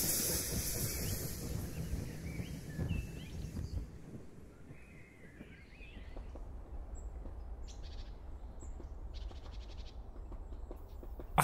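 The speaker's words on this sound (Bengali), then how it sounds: "হর্ন বাজিয়ে ট্রেন ছুটে চলল তার গন্তব্যে" A passing train rumbling along the tracks, a broad, fairly distant roar that fades to a quieter hum, with birds chirping in the background and no clear horn blast.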